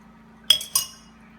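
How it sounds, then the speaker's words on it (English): A spoon stirs oils in a glass container for akpi-seed enlargement oil, giving two quick, bright clinks of metal against glass about a quarter second apart, then silence. "So I'm just going to stir this so everything can, all the oils can be drained properly."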